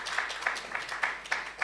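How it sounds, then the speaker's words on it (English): A church congregation applauding after a performance, a short burst of dense hand clapping with rhythmic accented claps, moderately close and without speech. "Let's give another round of applause to Lorna."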